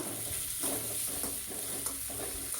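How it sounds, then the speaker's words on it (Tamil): Tomatoes sautéing with salt in a pan, a steady close sizzle with soft stirring scrapes running under it and no voices. "சேர்த்துட்டு நல்லா வதக்கி விட்டுக்கலாம்"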